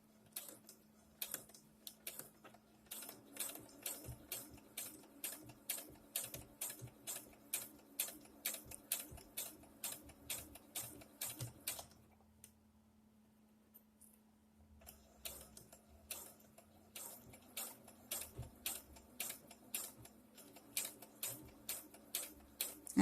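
A sewing machine runs a slow back-and-forth stitch on ribbing. Its needle ticks steadily and rhythmically under a low motor hum, pauses briefly partway through, then resumes.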